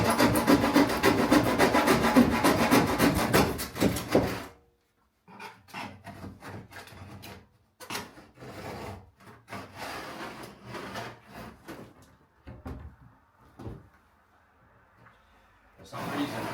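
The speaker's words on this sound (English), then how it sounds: "Because this is a chipboard, it's easy to cut it even with a plasterboard saw." A plasterboard saw cutting chipboard during kitchen fitting, a close run of fast rasping strokes that stops, then continues as slower, quieter intermittent sawing strokes with pauses.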